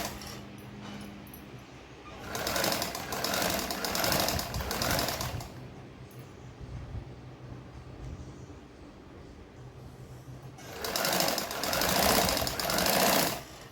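Stitching on a katori blouse comes in two bursts of fast, rattling machine sewing. They stand over a steady background hum and rumble, with quieter handling noise in the gap between them.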